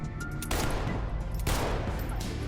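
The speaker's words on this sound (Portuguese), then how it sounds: "a Ana tá saindo do apartamento do cara, quando começa a levar tiro de alguém" Gunfire in a gangster movie scene as a woman leaving an apartment is shot at, heard as a dense, loud, continuous barrage of shots with two sharp surges.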